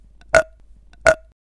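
Two short, loud burps about 0.7 seconds apart, close up, with near silence around them.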